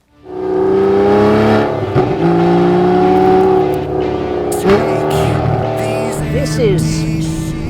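The V12 engine of a 2017 Aston Martin V12 Vantage S with a 7-speed manual revs loudly and climbs through the gears, a strong rising drone with brief dips between shifts.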